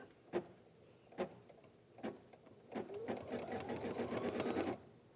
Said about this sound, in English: So it'll just do a little running stitch to hold that ribbon in place.